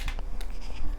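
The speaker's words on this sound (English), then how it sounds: "draw a button on the page" A pen drawing a button shape on a journal page, close and fairly loud, with a quick series of scratchy strokes in broken rhythm across the whole moment.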